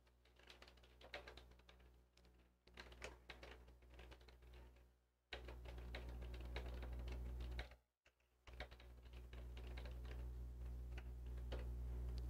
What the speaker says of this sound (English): start typing our subtitle right here